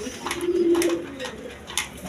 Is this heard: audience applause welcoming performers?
no